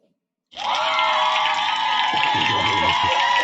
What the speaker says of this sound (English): The cheers of the crowd.